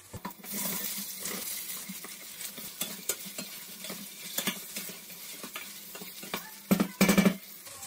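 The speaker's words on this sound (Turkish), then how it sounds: "Salça da iyice böyle rengini verdikten sonra artık pırasasını ekliyorum." Chopped leeks hit a pot of tomato paste and sizzle softly, with scattered stirring scrapes and clinks and a brief clatter near the end.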